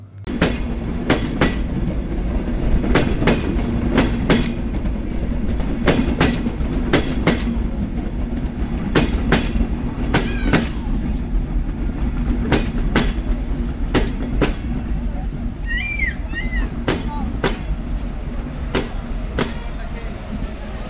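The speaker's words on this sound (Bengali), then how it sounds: "অলরেডি আমাদের ট্রেন কিন্তু চলে এসেছে, খুলনা থেকে ছেড়ে দর্শনায় প্রবেশ করলো" The Chitra Express rolls into Darshana railway station, its wheels beating a loud, close, rhythmic clickety-clack over the rail joints under a constant rumble. Voices are faintly audible in the background.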